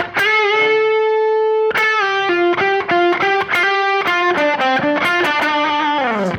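Distorted electric guitar plays a minor pentatonic blues lick in D, opening with a raked strum and then a string of picked notes, loud and close, no voices.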